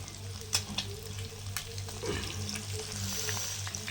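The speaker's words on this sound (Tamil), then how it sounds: "வாங்க இப்போ மீனை திருப்பி போட்டு பார்க்கலாம்" Fish fries on a flat tawa with a soft, steady sizzle, broken by a few sharp scraping knocks as the pieces are flipped, plus a low hum underneath; no talking.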